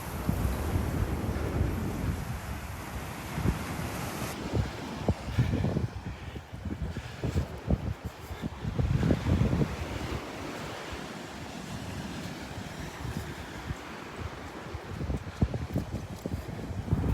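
Wind from the north blows hard across the beach at Delnor-Wiggins on a Sunday morning, a steady roaring rush buffeting close by with surf washing underneath.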